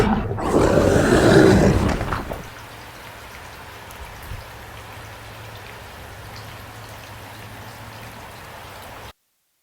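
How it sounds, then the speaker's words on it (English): Steady rain falls in a soft, even hiss after a brief louder burst at the start, continuing alone without any voices. "I'm in out of that bloody rain"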